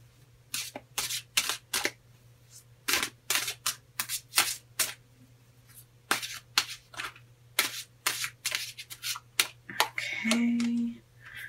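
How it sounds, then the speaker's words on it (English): A Rock and Roll Tarot card deck being shuffled close up, with quick bursts of riffling and rustling card edges in uneven clusters over a steady low hum, and no talking. "So we're going to pull 3 cards from the Rock and Roll Tarot deck. Okay, and let's get shuffling here."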